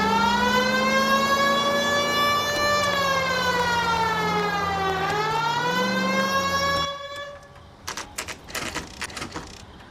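A loud wailing police car siren in the video game L.A. Noire rises and falls steadily for several seconds, then cuts off, leaving scattered clicks and short bursts of noise.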